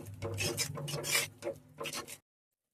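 Chili, coriander powder and salt stirred together in a pan, heard as a few raspy scraping strokes of a spoon across the pan's bottom, close and fairly quiet, ending abruptly in silence.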